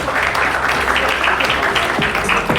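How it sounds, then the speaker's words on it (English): A film festival audience claps in applause at an awards-style stage event in Hyderabad, a steady dense patter of many hands filling the room, with a few sharper claps standing out. "a big round of applause"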